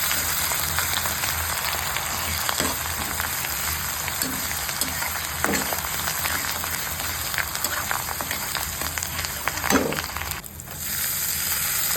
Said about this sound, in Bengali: তার মধ্যে কাঁচা লঙ্কা জিরি জিরি করে কেটে দিয়েছি। তার মধ্যে কারিয়া পাতাগুলো দিয়ে দিলাম। তাহলে সবগুলো একটু ভাজা ভাজা হয়ে যাবে।